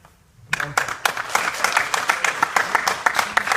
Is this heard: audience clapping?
yes